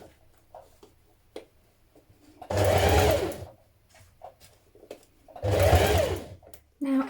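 A sewing machine stitches a long coat from Butterick pattern 6244 in two loud bursts of about a second each, separated by a short pause, with quiet handling noises before and between the runs.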